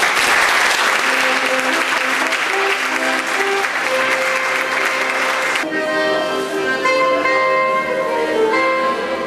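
An audience at a ceremony honouring a teacher breaks into sustained, dense applause, which then gives way to music.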